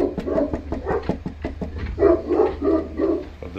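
Dogs bark on a front porch in a string of loud, close woofs with short gaps between them, followed by a few quicker overlapping barks. No one speaks.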